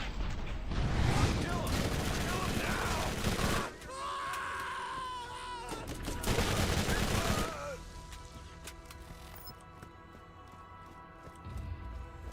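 Rapid SMG bursts from the Borderlands video game crackle loudly in dense stretches, broken by a quieter gap with tonal game effects, then a final burst at the end, with chatter mixed underneath.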